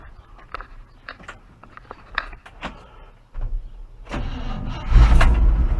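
Chevrolet C10 truck engine: a few clicks and handling noises, then the starter cranks and the engine catches into a loud, close idle.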